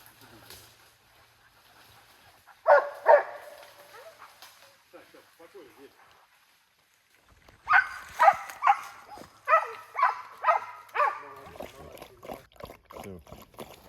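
Hunting dogs barking at a bear during an airgun hunt: two short bursts of barking, then a longer run of repeated loud barks and yips, with quieter talk between them.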